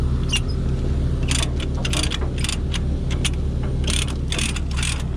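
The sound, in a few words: Cat 938K loader engine cranked and running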